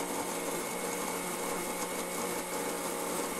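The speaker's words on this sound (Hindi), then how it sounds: "ये वीट ग्रास को मैंने मिक्सर में डाल दिया है। अब हम इसको ग्राइंड करेंगे।" A mixer grinder whirs steadily as it grinds wheatgrass, a constant dense motor drone with no voices.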